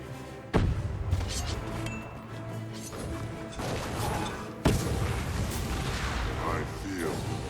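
Heavy cannon artillery fire in the game Guild Wars 2: two loud booming blasts roughly four seconds apart, each followed by rumbling battle noise, with voices heard in the mix.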